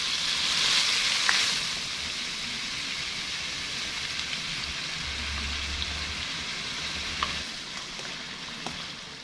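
Cabbage being stir-fried in a pan for pancit bihon, a continuous loud sizzle with occasional soft scrapes and clinks of the spatula.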